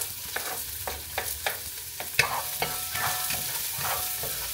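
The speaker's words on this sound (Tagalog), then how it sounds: "So, dito na natin isusute yung garlic, tsaka sibuyas." Garlic and onion sautéing in a crowded pan for pancit bihon, a continuous sizzle broken by regular scraping strokes of a spatula roughly twice a second, close and alone without talk.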